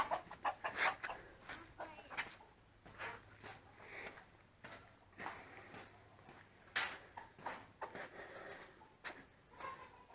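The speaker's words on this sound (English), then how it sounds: "but chickens fighting" Chickens squawk and cluck in agitated bursts, faint and somewhat distant, with scuffling between calls.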